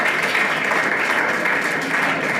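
An audience at a coaching centre farewell party claps to welcome guests, a dense, steady wash of many hands clapping together, loud and continuous throughout.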